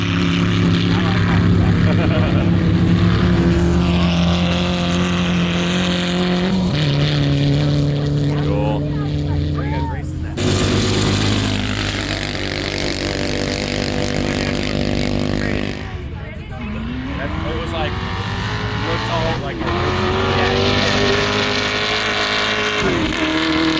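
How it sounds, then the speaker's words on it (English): Side-by-side off-road vehicles race at Gordon's sand drags, their engines roaring and revving loudly in successive passes, pitch sweeping as each one rips by, with brief cuts between runs. "But there were some cool side-by-sides ripping through."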